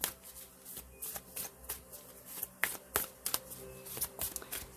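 An oracle card deck is shuffled by hand, with rapid, irregular riffling and flicking of cards, close and fairly loud with no talk.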